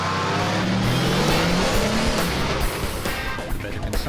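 A diesel Audi race car engine roars loudly up close, its pitch climbing as it accelerates, with tire noise and a steady, heavy drone throughout.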